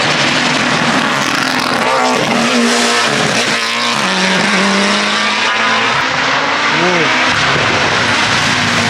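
An Audi race car charges up the Gorjanci hill climb course, its loud engine howling through rising and falling gear changes close by, with a few brief voices audible beneath the roar.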